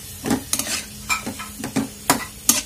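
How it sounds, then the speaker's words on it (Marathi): A spatula stirs leafy greens cooked with moong dal and a little sugar in a pan, giving a run of close, distinct scraping strokes over a soft, constant sizzle. "आणि छान असं मिक्स करून घेऊया"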